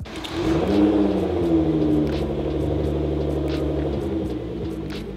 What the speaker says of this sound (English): After they finally got the catback exhaust installed, this is the first startup